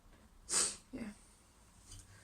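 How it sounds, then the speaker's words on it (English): A single sharp sneeze bursts out, followed by a softer sniff or exhale, in an otherwise quiet room. "I'm gonna sneeze."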